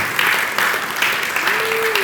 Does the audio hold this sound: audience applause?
yes